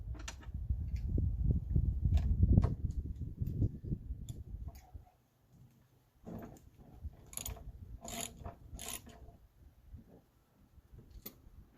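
A ratchet works loose the nut on the steering of an old shop truck, with low rubbing and handling noise at first, then quiet spaced clicks and ticks of the tool close by.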